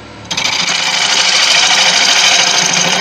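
A wood lathe spins up on a deep Irish white oak bowl with a crack in it, a loud, steady, close mechanical drone with a whirring rasp that starts abruptly after a brief quieter moment and holds without talk.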